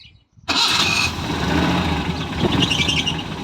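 The small two-cylinder engine of a Citroen 2CV-based Lomax 224 kit car cranks briefly on a worn starter, then catches and runs, a steady mid-pitched idle rattling close by with no talk.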